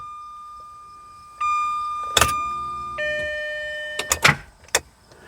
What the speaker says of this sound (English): I think I hear the fuel pump running.